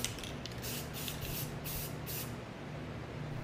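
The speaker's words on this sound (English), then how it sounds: "First, I spray painted it with Rustoleum Gloss White paint." Several short, close bursts of Rust-Oleum Gloss White spray paint hissing from an aerosol can in a garage, about five quick sprays in a row with a steady low hum underneath, then quiet background.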